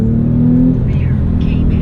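Porsche 911 accelerating on a winter road, a steady loud engine drone and rumble rising slightly in pitch over about two seconds, heard from inside the car.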